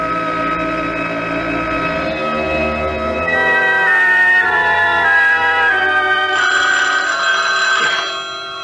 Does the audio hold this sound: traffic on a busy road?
no